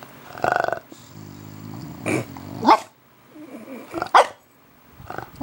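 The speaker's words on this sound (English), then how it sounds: "Crazy dog." A dog barks in several loud, close bursts, with low growling between the barks and no one speaking.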